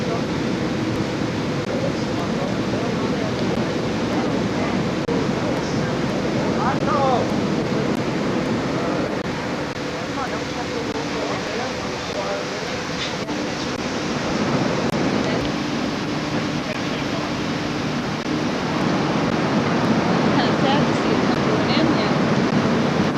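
A waterfall gives off a steady, broad rushing roar that fills the whole stretch without pause, with faint voices now and then beneath it.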